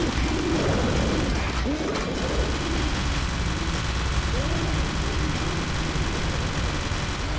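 Cooing bird calls in the VR shooter Drunk Or Dead, repeated pigeon-like coos over dense gunfire and game noise, loud and busy throughout.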